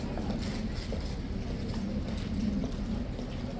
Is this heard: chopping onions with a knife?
no